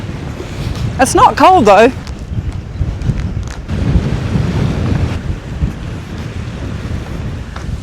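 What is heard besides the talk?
strong wind on a pier by the sea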